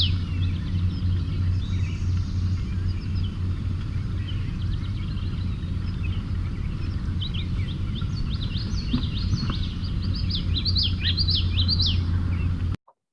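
A wetland warbler sings a loud series of repeated witchity notes, bright chirpy phrases over a constant low rumble of background traffic, fairly distant and without talk.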